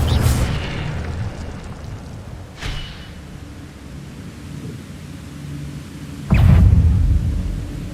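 An Incendio fire spell erupts in a Hogwarts video game with three heavy booming blasts spaced a few seconds apart, each trailing off into a low rumble. A voice can be heard faintly in the background.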